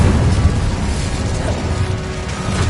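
A loud, continuous rumbling roar with crackling bursts as the Incendio fire spell is cast in Hogwarts Legacy, with no speech over it.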